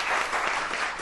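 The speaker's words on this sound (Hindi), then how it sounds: "बहुत सारी तालियां इनके लिए।" A brief moment of studio audience applause for chef Rahat on a morning television show, a steady wash of many hands clapping together.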